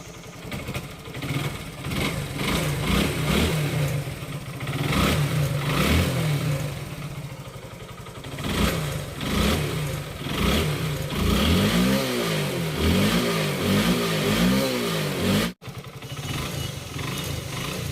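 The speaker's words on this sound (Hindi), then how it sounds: "तो दोस्तों इसका साउंड आप इंजन का सुन सकते हैं ग्लैमर बाइक का।" A Hero Honda Glamour motorcycle engine runs after a crank noise repair, idling steadily close by with repeated revs rising and falling, loud and alone without talk.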